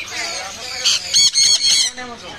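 Parrots, including a white-fronted Amazon, at the crowded Mirpur 1 bird market in Dhaka let out several loud, harsh squawks in quick succession close by, with voices talking around them.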